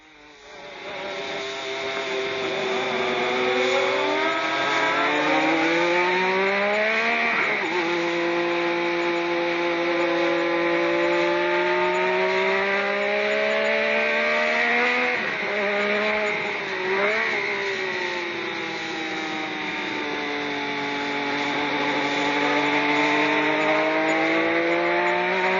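Nigel Mansell's Lotus racing car lapping Brands Hatch, its high-revving engine screaming loud and close, pitch rising through each gear and dropping sharply at the shifts, sweeping up and down over the whole lap.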